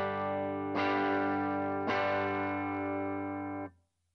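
A JTM1 guitar amp at volume 2 with the tone control at zero rings out with sustained, slightly distorted chords, two strums, each left to ring before cutting off, moderately loud and alone.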